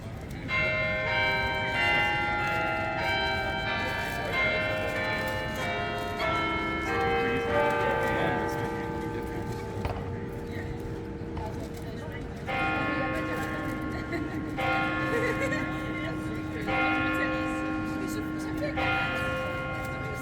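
Church bells of St Mary-le-Bow in London chime four o'clock, a sequence of ringing bell strikes with long overlapping tones that carry on steadily, with some faint talk beneath.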